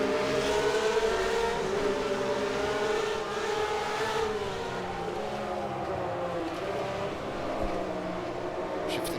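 A Matra V12 race car in rFactor 2 at Monaco 1966 howls steadily and loudly, its pitch rising and falling through throttle changes and gear shifts, with no talk over it.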